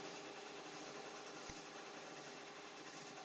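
An embroidery or stitching machine working on jackets, a faint steady whirring hum running without break, with one soft thump partway through.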